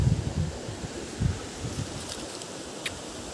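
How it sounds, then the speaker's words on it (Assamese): Wind blowing outdoors in green open surroundings, a soft broadband rush with low gusty buffeting against the microphone, strongest in the first second and fading to a steady faint hiss. "ইমান ধুনীয়া বতাহ ইয়াত"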